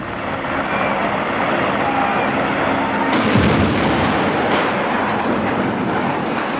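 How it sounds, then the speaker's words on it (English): A building demolition blast for a film, set off with dynamite and boosted by burning gasoline, roars as a loud, sustained rumble. The low boom swells about halfway through, with no talk. "A crew of true demolition men will blast the building with dynamite."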